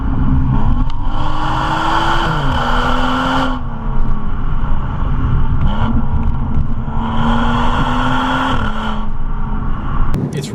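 BMW F32 435i coupe engine accelerating hard from inside the car, a loud steady drone rising in pitch through several gear changes with brief dips at each shift.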